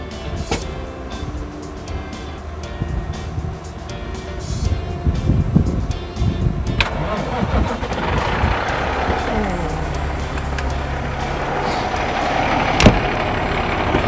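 A fire truck engine turns over and catches, settling into a loud diesel rumble and idle that grows busier after the start, with clanks and brief knocks over it.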